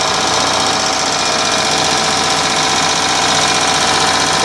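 An Onan 305 CCK generator engine runs close by, a loud, steady, rapid mechanical clatter with no pauses.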